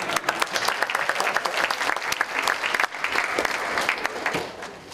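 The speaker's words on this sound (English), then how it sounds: "give me a round of applause" A seminar audience gives a round of applause, steady, fairly loud clapping from many hands that holds for several seconds before tapering slightly.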